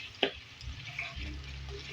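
Onions with a spoonful of ginger paste frying in a pan, a low steady sizzle with a sharp clack of a utensil near the start and soft stirring scrapes throughout.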